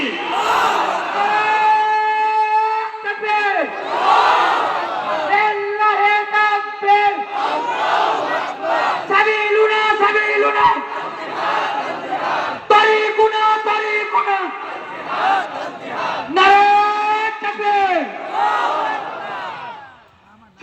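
A large crowd at a Bengali religious sermon gathering chants the takbir in unison, answering a preacher's call with loud, repeated, sustained voiced bursts that rise and fall several times.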